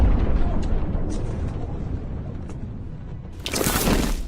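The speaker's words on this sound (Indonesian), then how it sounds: "Ledakan yang dihasilkan pun besar, mengguncang wilayah target dengan kekuatan mengerikan" A large missile explosion strikes a target area, giving a long rumbling roar that persists, then a fresh broadband blast surges loudly near the end.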